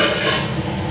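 Vegetables being stirred in a hot pan on the stove, giving a short, close, steady scraping and sizzling with no voices.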